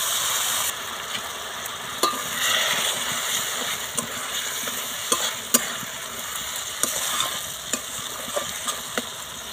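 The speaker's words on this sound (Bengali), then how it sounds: "গ্রেভিটা একটু ফুটিয়ে নেব" Chicken kosha gravy with whisked yogurt and water simmers in a pan, giving a steady bubbling hiss with scattered sharp pops and taps, close by with no voices.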